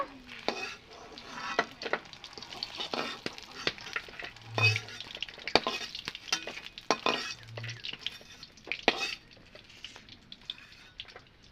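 Fresh river fish frying in oil in a pan, a quiet sizzle under repeated sharp clinks and scrapes of a spatula turning the pieces.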